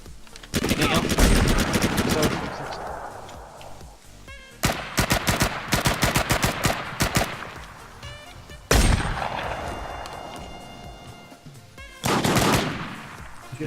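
Bursts of automatic gunfire from the H1Z1 battle royale game rattle in rapid volleys, loud and close, separated by brief pauses, with a few single shots.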